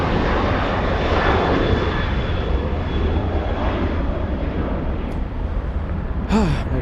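An airliner taking off from runway 24 left at LAX, a loud continuous jet engine roar holding steady across the clip, with a brief high whine and a short vocal sound near the end.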